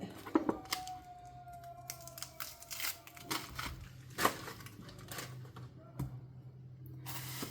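Chili ends being cut off for salsa, a few crisp snips and clicks at low level with a steady faint background hum.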